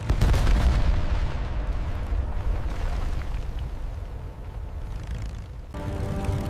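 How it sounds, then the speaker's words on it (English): A German aircraft crashing to the ground in 1914 after being downed by a French gunner, heard as a loud, sustained explosive rumble that swells at the start, rolls on, then eases with a lighter tail. "The German aircraft crashed to the ground."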